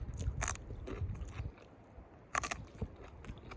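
Crisp crunchy bites into raw evening primrose root, a few loud snapping crunches followed by close chewing, with a pause between bites and no talking.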